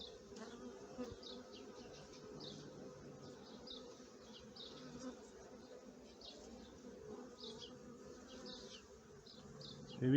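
Honeybees buzzing steadily around a queen-rearing nucleus hive, a soft continuous hum with individual bees droning past nearby, fairly quiet.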